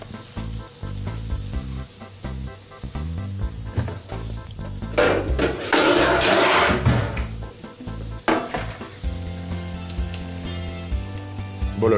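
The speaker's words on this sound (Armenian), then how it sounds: "Եվ բոլոր կողմերից տապակում։" Bacon-seasoned meat sizzles in a hot pan while it is browned on all sides, with the clink and scrape of utensils and a louder burst of frying in the middle.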